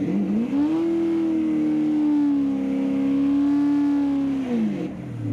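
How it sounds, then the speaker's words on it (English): A 454 ranch truck does a burnout at an uphill eighth-mile drag strip, its V8 engine climbing to a loud sustained high-rev howl held for several seconds before dropping away, close and with no talking. "We got ourselves a burnout."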